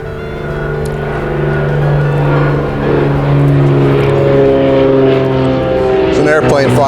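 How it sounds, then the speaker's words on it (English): A propeller airplane passes overhead outdoors, a steady droning engine hum that holds for several seconds and shifts in pitch as it goes by, with a person speaking over it. "Airplane flying by."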